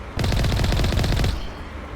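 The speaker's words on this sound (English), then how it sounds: "Maybe we should start to shoot." Rapid automatic gunfire in the Mass Effect video game: one loud, dense burst of fast repeating shots that cuts off after about a second and leaves a fading tail.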